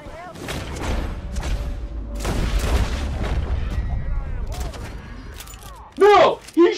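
Several booming gunshots in a Red Dead Redemption 2 shootout ring out in bursts over steady game ambience, with a shouting voice and sharp cries rising near the end.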